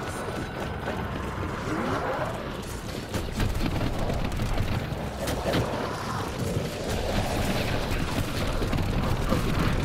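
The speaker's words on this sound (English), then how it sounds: "the shield, the gunfire is so strong" Heavy gunfire in Call of Duty: Black Ops 4 pounds away as a dense, continuous mechanical clatter of rapid shots with booming hits, loud and unbroken with no talk over it.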